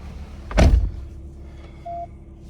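A diesel vehicle's car door shuts once with a solid, close thump, then the cabin settles into a low hum broken by a short electronic tone.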